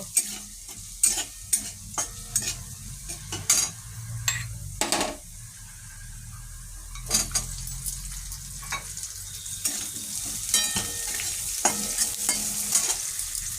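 Onions fry in a pan for chilli paneer, with a steady sizzle under repeated scraping and clinking strokes of a spatula against the pan. The stirring comes in irregular bursts with quieter stretches of sizzling between them.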